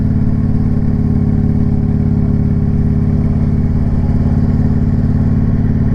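Motorcycle cruising on country roads, a loud, steady close-up engine drone with a throbbing low rumble and wind, holding an even pace throughout with no talk.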